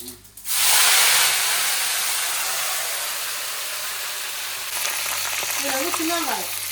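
Curry leaves dropped into hot oil with cinnamon for tempering burst into a loud sudden sizzle that settles into steady crackling hiss, with faint voice-like tones near the end.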